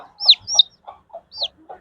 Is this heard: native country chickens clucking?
yes